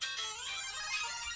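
Android text message ringtone from a fun ringtones app, a short bright electronic jingle with layered tones, playing loud and close from a phone for just over a second, alone without talk.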